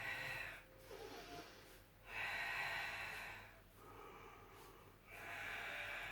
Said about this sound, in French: Je dois vous entendre respirer.